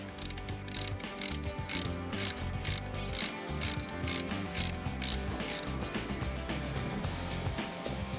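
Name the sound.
loosening bicycle bell hub with ratcheting tool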